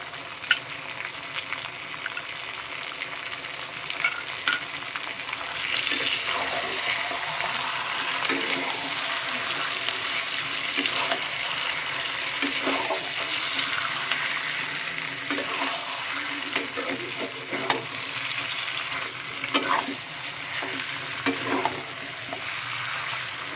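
Chicken curry cooking in a pan as spices are added one by one, a steady close sizzle of frying with repeated scraping and stirring strokes running throughout, no talk.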